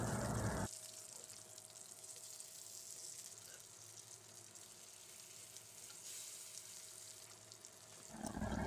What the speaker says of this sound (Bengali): এক পিঠ ভাজা হয়ে গেছে, এখন মাছগুলো উল্টে দেব